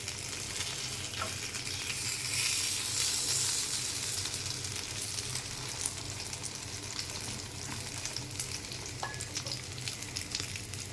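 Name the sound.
eggplant (brinjal) frying in oil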